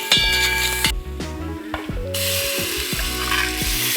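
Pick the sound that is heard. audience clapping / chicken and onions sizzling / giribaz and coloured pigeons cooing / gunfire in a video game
chicken and onions sizzling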